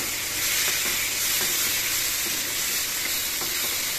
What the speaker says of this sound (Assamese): এতিয়া মাছখিনি ইয়াত দি দিম অলপ কৰি লগাই দিম মাছখিনি